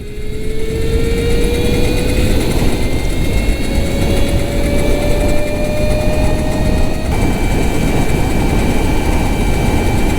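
An electric cafe racer motorcycle accelerating hard, a loud continuous whine rising steadily in pitch with a constant rushing wind roar beneath it, close and unbroken for about ten seconds.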